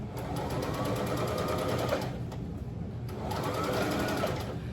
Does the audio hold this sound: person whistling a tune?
no